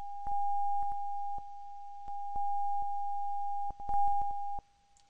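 Two interfering tones from a sound demonstration form a steady sine-like hum that swells and dips in level, broken by sharp clicks and a brief gap before cutting off near the end.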